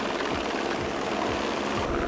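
Helicopter rotor thudding steadily over the high slopes of K2, a continuous loud beat filling the whole stretch with no voices.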